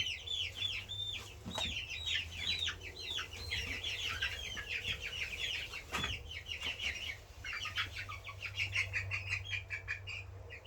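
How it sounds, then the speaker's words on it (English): Five-week-old black Australorp chicks make rapid, high, clustered peeping chirps nearby, with brief pauses between bursts over a low steady hum. "Now I'm thinking that these are black astralorps"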